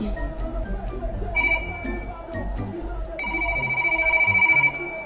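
Two bursts of an electronic telephone ringtone with steady high warbling tones, sounding in a busy household over children's chatter and background noise.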